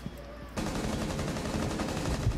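Rapid automatic gunfire from a Call of Duty match breaks out after a short quiet moment and continues as a steady, fast burst of shots at moderate loudness.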